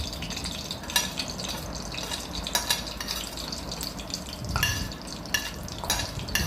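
Cumin seeds frying in a pan for pongal, a steady sizzle with occasional sharp crackles and stirring clinks, close and continuous with no talk.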